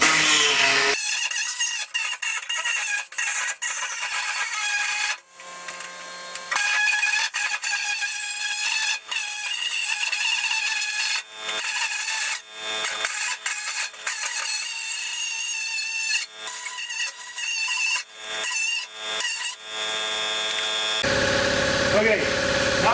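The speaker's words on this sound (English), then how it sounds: "we're going to use body saw instead" A body saw cuts metal on a Ford F-350 truck during a FiTech install, giving loud rasping buzzes in repeated bursts with short pauses between strokes, close by.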